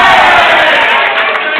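A crowd at the Balkan Challenge 2019 bowling tournament team final cheers and roars loudly and steadily, a dense wall of voices that holds for under two seconds.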